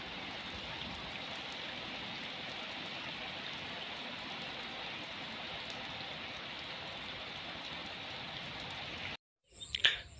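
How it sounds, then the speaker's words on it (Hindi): Steady rain falling, a dense even hiss that continues unbroken, then cuts off at the end with a brief clunk. "बारिश शुरू थी गई है"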